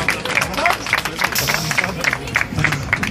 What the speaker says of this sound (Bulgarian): Аплодисменти, дами и господа, за Красимир Ковачев.